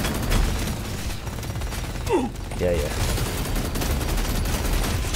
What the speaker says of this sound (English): that forward-focusing minigun with the autocannon makes just an overwhelming gunfire